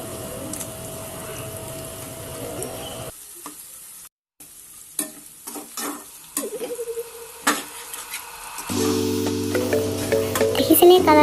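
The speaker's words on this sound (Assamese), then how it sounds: "পিঁয়াজখিনি ভালকৈ ভাজি ল'লে খাবলৈ টেষ্টটো বেছি ভাল হয়।" Onions frying in a pan for dhaba-style mixed dal tadka, sizzling with stirring and scraping of a spoon, broken by short pauses and clinks, then a steady sizzle; a voice speaks in places.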